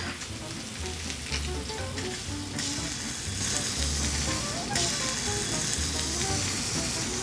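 Fish frying in gochujang butter in a hot pan alongside mushrooms and asparagus, a dense, loud, continuous crackling sizzle that swells midway, heard up close with no talking.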